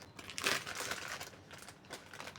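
An old plastic bag holding Eid party balloons crinkles close up, producing a run of crisp, irregular rustling bursts, loudest near the start, then softer handling crackles with no talking.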